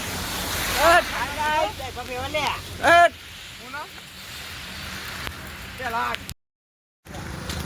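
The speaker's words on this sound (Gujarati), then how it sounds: "ફૂલ બારિશ ગાઈસ, ફૂલ બારિશ" Heavy rain pours in a constant roaring wash while voices talk over it, then the sound briefly cuts out before the downpour returns.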